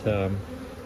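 Honeybees buzz steadily from an opened beehive in autumn. The close, sustained hum swells briefly at the start, then settles into a lower, even drone.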